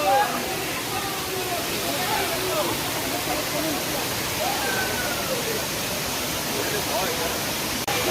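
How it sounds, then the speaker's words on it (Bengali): Bamni Falls waterfall roaring as a steady, dense wash of rushing water close by, loud and unbroken throughout with no pauses. "তোমরা এখন বামনি ফলসের ভিউটা দেখো।"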